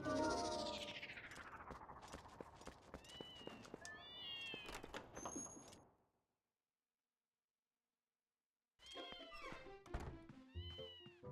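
Cats meowing in The Legend of Zelda: Twilight Princess HD, a few short mews mixed with thunks and game ambience, cutting to silence midway before more game sounds and meows return.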